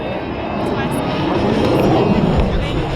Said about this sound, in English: Now it's a very manoeuvrable aircraft, as you said, it's quite souped up